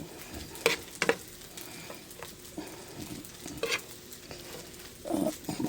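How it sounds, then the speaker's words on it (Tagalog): Egg being stirred into frying food in a pan, with a steady sizzle and several sharp scrapes and knocks of the spatula against the pan, close and alone. "Pero lalagyan ko itlog para may kulay. Halo-halo natin."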